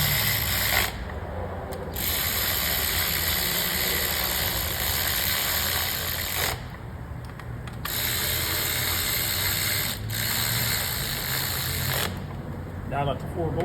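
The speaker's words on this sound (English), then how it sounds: "Just going to run the 4 10mm bolts down." Ratchet wrench running down four 10mm bolts on an Acura TSX engine cover area, a steady close rapid clicking that continues almost without pause, broken by a few brief stops, over a constant engine-like hum.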